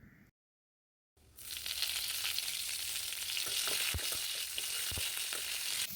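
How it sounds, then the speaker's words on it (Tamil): Fennel seeds and curry leaves crackle and sizzle loudly in hot oil in a kadai, a dense continuous frying hiss with small pops, alone after a brief silence. "இப்போ சோம்பு பொரிஞ்சதுக்கப்புறம் கொஞ்சம் கருவேப்பிலை சேர்த்துக்கோங்க"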